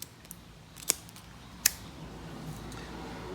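Scissors trim the fall hitch on a whip with two sharp snips close by, spaced under a second apart against a quiet background.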